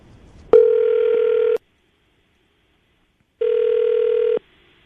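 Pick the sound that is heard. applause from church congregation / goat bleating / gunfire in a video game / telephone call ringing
telephone call ringing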